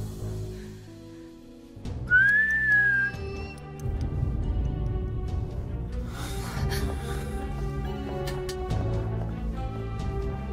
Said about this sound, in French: J'ai à nouveau sifflé, et le sifflement est sorti de la salle de bain